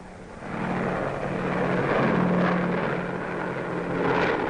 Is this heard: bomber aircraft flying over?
yes